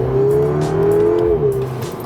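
A VW GTI pulls hard under acceleration, its engine note rising and sustained loud and close for about two seconds, with no talk over it.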